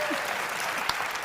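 An in-person audience at an Apple event applauds, a dense, steady patter of many hands clapping for a brief moment with no pauses.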